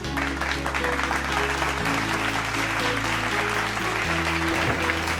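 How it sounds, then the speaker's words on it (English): An audience applauds at a Philippine Independence Day celebration in Karachi, a steady wash of clapping from many hands under a sustained backing of music tones, even and continuous throughout. "A huge round of applause, everyone."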